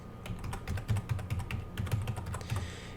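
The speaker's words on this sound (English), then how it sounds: "in the branch space you should type in your own name" Keys clatter on a computer keyboard as a branch name is typed into a dialog, a steady run of close, light clicks with no talking.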